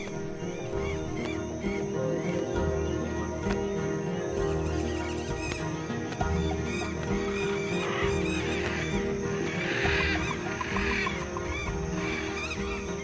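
A flock of scarlet macaws calls in a rainforest, loud overlapping squawks and harsh cries over a dense, continuous background.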